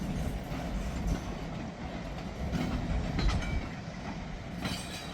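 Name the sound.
vintage freight train passing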